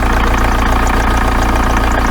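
A Volkswagen T25/T3 camper van engine idling with the exhaust pipe vibrating in a rapid, even rattle, loud and close, with no voices.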